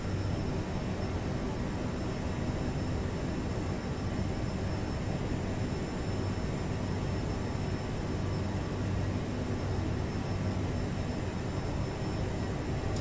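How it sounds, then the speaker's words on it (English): The jet engines of a CRJ-700 airliner in Microsoft Flight Simulator give off a constant, even roar and whine, steady and unbroken throughout with no other sounds on top. "I have to have the simulator sound so high to even get the slightest bit of sounds out of these engines"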